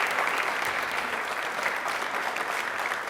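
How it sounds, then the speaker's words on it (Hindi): A studio audience on a televised Rajasthani quiz program claps loudly for a nutrition campaign, a dense and steady burst of applause that continues evenly throughout with no one speaking over it. "एक बार तालियां जोरदार हो जाए इस अभियान के लिए।"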